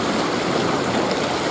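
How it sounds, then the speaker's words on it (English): Strong wind and choppy waves, about two feet tall with whitecaps, wash along a lake shore beside a rock ledge ahead of a storm front, a steady broadband roar with no talking. "wind is getting a little out of control."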